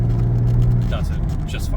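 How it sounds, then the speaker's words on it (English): Engine of a 1985 Jaguar XJS during a downshift into fourth gear, a low steady hum that breaks off after about a second into a brief shift, close inside the cabin with someone talking over it. "if we need to downshift into fourth"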